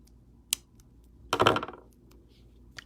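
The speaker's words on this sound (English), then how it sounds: "now I'm gonna come in with my cutter tool, cut that off." A cutter tool snips wire while a wire-wrapped bird's nest pendant is made, with one sharp click followed by a louder crunchy snap and faint small metallic ticks in a quiet room.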